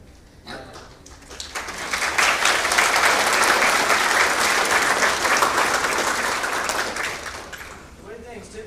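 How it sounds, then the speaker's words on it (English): An audience at a university PA studies white coat ceremony breaks into applause that swells to a dense, loud clapping roar for several seconds, then tapers off as a voice resumes. "give you a big round of applause here."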